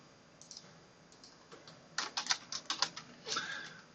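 A computer keyboard is typed on nearby, with scattered light keystrokes at first and then a quicker, louder burst of clicking in the second half, with no voices.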